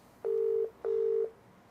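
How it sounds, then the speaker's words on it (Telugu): A phone call ringing out with two steady tone bursts of equal length separated by a short gap, clear and close on a quiet background. "అన్వేష్ కాల్ కొట్టు ఒకసారి."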